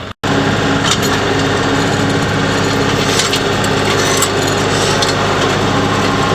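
A rake dragged over topsoil on a grass runway makes a continuous loud, rough scraping drone with a constant machine hum under it, close and steady after a brief start, with no talk.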